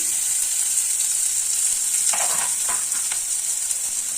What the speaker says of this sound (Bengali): তেলটা গরম করে নিই যেটা পেঁয়াজ কুচি দিয়ে দিলাম লঙ্কা কুচি